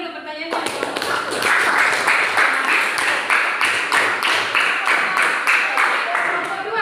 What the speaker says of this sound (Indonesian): Tepuk tangan dulu pertanyaannya.